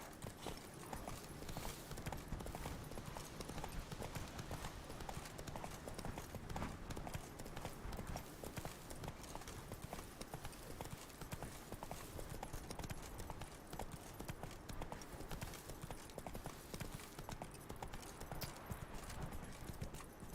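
Roach the horse runs in The Witcher 3: Wild Hunt – Blood and Wine, hooves beating in a quick, steady clip-clop rhythm, quiet and continuous under faint ambient game noise.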